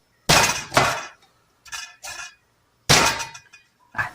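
A knife cuts corn into pieces for a monk fruit, Chinese yam and pork shank soup: sharp, loud, close chops fall mostly in pairs, with short silent gaps between them.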